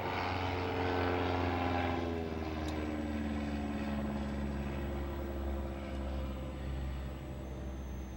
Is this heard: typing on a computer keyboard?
no